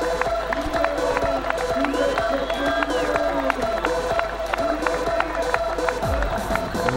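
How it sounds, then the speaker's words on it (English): Crowd roaring and cheering at a youth lead climbing world championship final in Noumea, a steady loud wash of voices and applause through the whole stretch, with an announcer's voice over it. "Hear the roar from the crowd."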